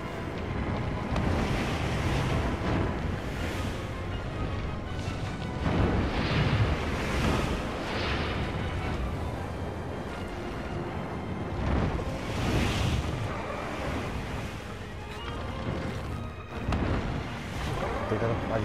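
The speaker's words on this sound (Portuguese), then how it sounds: "Tá com outro vento também, tá ventando bastante." Strong wind gusting in Shadow of the Colossus, a loud continuous roar with surging swells, mixed with people talking over it throughout.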